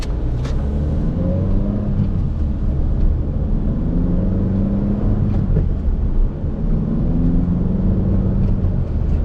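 A Toyota Corolla XRS engine fitted with an Injen cold air intake drones steadily while driving, a loud, deep in-cabin rumble with gentle rises and falls in pitch and no talking.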